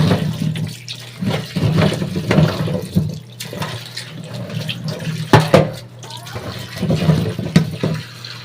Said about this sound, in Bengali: আগে সবজিগুলো ধুয়ে নিই ভালো করে